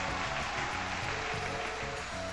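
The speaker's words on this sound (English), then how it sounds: "Let's give a big round of applause for our lovely ladies on stage." Sustained applause from a crowd in the video game Legend of Heroes: Trails to Azure, a dense steady patter of clapping that continues without a break.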